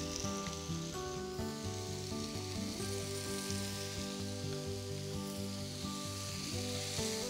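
Pineapple rings sizzle in a hot griddle pan lightly brushed with vegetable oil. The frying hiss is loud and steady and runs the whole time, with a constant tonal hum from the kitchen behind it and no talking.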